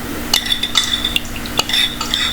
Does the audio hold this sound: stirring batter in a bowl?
yes